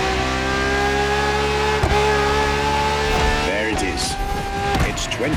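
Ferrari supercar from The Crew Motorfest, a 2013 Maranello model, its engine revving loud and close with rising and falling pitch sweeps and brief tire squeal.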